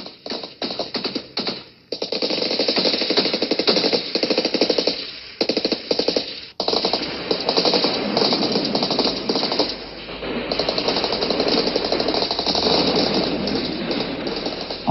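Gunfire in combat in Guinea-Bissau, heard on a thin, band-limited recording: loud rapid bursts at first, then sustained rattling fire with brief breaks, and no speech.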